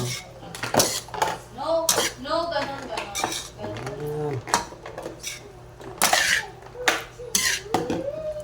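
A utensil scrapes and clinks against a dish while a tofu dish is stirred, giving repeated metallic taps and scrapes in an irregular rhythm under casual conversation from nearby speakers.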